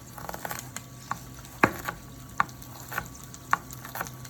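Onions fry in a pan for pork ribs with squash, a soft steady sizzle punctuated by several sharp utensil taps and stirs.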